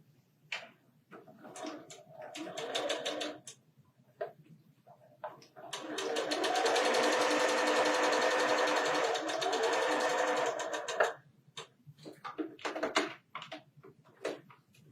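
A sewing machine stitches a quilt block, a steady whirring run of about five seconds between short bursts of clicking and tapping as the fabric is positioned, close and fairly quiet.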